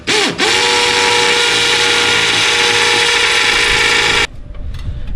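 A power drill bores holes to mount a shop sign; the motor spins up and holds a loud, steady whine for about four seconds, then cuts off, leaving quieter background noise.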